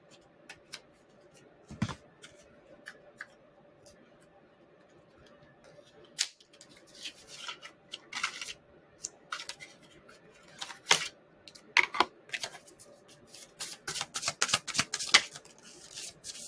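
Moonology tarot oracle cards being shuffled and handled, giving scattered soft clicks and riffling bursts that grow denser and more frequent toward the end, close up and fairly quiet, with no talking.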